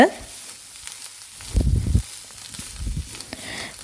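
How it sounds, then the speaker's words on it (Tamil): Scrambled egg and broccoli fry in a pan on medium flame, a quiet sizzle broken by two short, louder bursts of stirring and scraping. "நம்ம பொடி மாஸ் மாதிரி செஞ்சு வச்ச முட்டையை இதில் சேர்த்துட்டு நல்லா மிக்ஸ் பண்ணி விட்டுக்குவோம் ப்ரோக்கோலி கூட"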